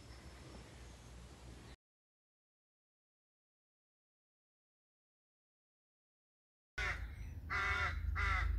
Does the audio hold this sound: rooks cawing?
yes